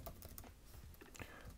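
Quick, fairly steady keystrokes on a computer keyboard, close and clear, with no talking.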